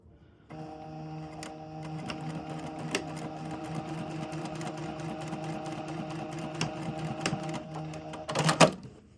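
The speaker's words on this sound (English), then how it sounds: "you're going to do a top stitch right next to the edge, 1 millimeter away from the edge to tack the pleats down" A sewing machine top-stitches about a millimetre from the edge to tack down pleats, running in one steady, close, humming stretch with faint rhythmic ticks before a louder clatter near the end.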